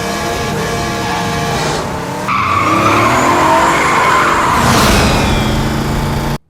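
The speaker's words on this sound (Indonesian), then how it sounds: "sebuah truk tua terlihat melaju kencang dengan ugal-ugalan" An old truck speeds recklessly down a road with its tires skidding and squealing loudly. The engine roars close by, and a long screech shifts in pitch before cutting off abruptly.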